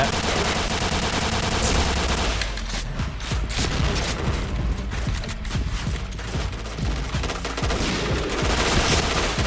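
Gunfire and grenade blasts in the online shooter Point Blank, a dense, loud stream of rapid shots and bursts with heavy booms throughout, no talk.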